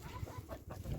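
Backyard laying hens clucking softly in short, low calls, close by but faint, with no talk.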